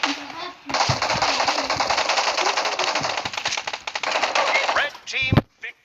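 Rapid automatic gunfire from the mobile battle-royale game PUBG Mobile, a dense, loud rattling burst lasting several seconds that ends in a few sharp final shots, with people talking over it.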